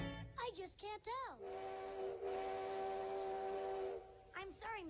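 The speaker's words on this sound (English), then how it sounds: "The train is leaving now. The Orient Express is now departing for Istanbul." A cartoon steam train whistle sounds as the Orient Express departs for Istanbul, a long steady multi-tone blast held for several seconds, framed by brief voiced sounds before and after.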